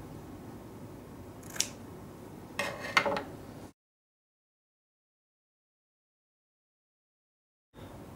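Scissors snipping through a fabric hem during sewing preparation: a couple of quiet, brief crisp cuts close by, followed by a stretch of silence.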